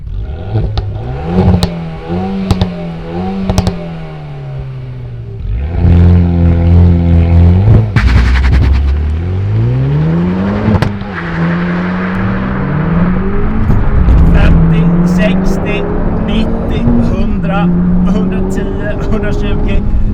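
A Renault Megane RS Trophy-R front-wheel-drive hot hatch accelerates around an airfield. The engine is loud and close, revving up repeatedly through several gear changes, with rising whines broken by brief drops at each shift.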